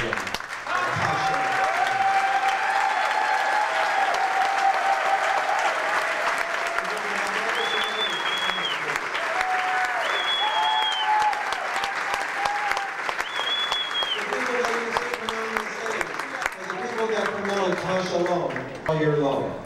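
Crowd applause welcomes an award winner at an entertainer of the year ceremony, sustained clapping mixed with cheers and background music tones, fairly loud and continuous, thinning toward the end.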